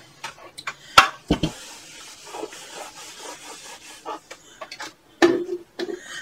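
Fabric edges held with pins are pressed with an iron, giving close, irregular rubbing and sliding sounds with a few sharp knocks and clunks from the iron and the board.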